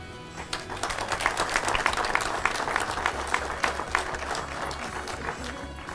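A crowd applauds steadily, many hands clapping together in a sustained wash of sound with no voices on top.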